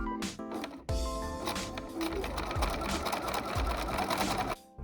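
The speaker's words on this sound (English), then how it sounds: "You will sew with 1/2 centimeter seam allowance." Close, loud sewing machine run stitching a neckbind onto fabric, a dense continuous whir that starts almost at once and stops just before the end, with soft thumps of handling fabric near the start and no talking.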